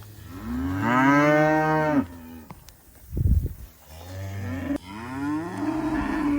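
Murray Grey cattle on pasture let out loud, drawn-out moos, two long calls separated by a brief gap with a low rumble between them, heard close with no talking.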